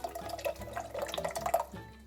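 Tomato sauce from a jar is poured into a pot of thickening tomato soup, giving a soft, steady liquid splashing and dripping that sounds close and moderately quiet.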